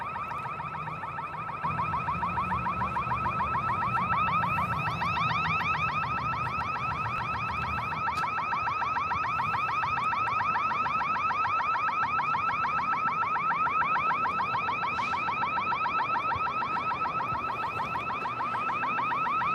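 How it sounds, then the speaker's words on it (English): A car alarm sounds continuously at close range during a police drone operation looking for people on a roof, its warbling electronic tone steady and loud throughout, with no talking. "Open the door and set off the alarm."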